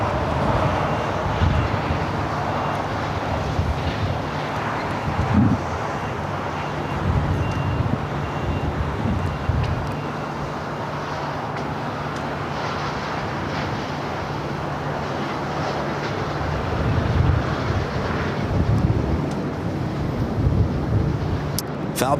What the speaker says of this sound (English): Next takeoff is United Airlines flight 1855 heading to Newark. It's a 787-9 Dreamliner